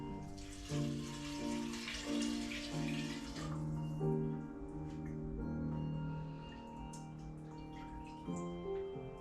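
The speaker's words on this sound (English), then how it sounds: "we're just gonna add water for the last one, the last cup" Water pours into a bowl during cooking, a rushing splash for the first few seconds that then fades, with steady tonal music underneath.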